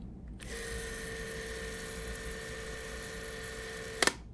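A vintage wind-up movie camera running at 24 frames per second with a mechanical governor: a steady mechanical whir with a high whine runs evenly for several seconds, then stops with a couple of sharp clicks.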